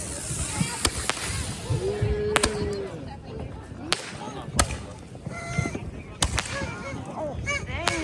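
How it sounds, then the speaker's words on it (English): Fourth of July fireworks bursting outdoors, heard as sharp cracks and booms at irregular intervals, some distant and some nearer, with people talking and exclaiming in between. "Oh, fireworks."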